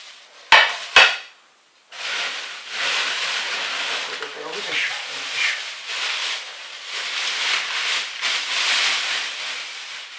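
Large deep ceramic plates being handled at home, two sharp clinks near the start followed by soft scraping, rustling and handling noise, with people talking throughout.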